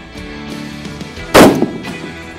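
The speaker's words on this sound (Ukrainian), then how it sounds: "Пробуємо здійснити постріл." A single sharp rifle shot from a Blaser R8 Ultimate on a shooting range, loud and close, with a short ringing decay and no talk around it.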